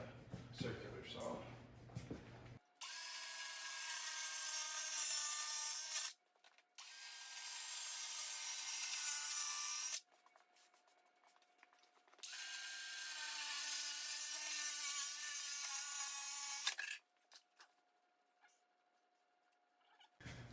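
Circular saw cutting a wooden starboard panel for a Sea Ray boat, three loud sustained bursts of cutting with short pauses between, some faint talk and workshop noise before the first cut.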